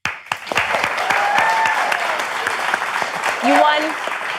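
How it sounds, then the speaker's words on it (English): A round of applause on a talk show, with clapping rising quickly and holding steady for a few seconds, mixed with scattered cheers. "we do have to give a round of applause"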